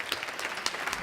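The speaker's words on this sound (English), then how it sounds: "Please give him a round of applause." Brief burst of audience applause welcoming a speaker at an evening talk, dense and steady hand clapping from a seated crowd throughout, without voices.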